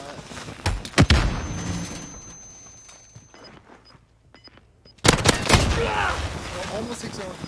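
Pistol fire cracks in a Modern Warfare match: a quick cluster of sharp close shots, a quieter stretch with faint distant pops, then another loud burst of exchanged gunfire, with a commentator talking over parts of it.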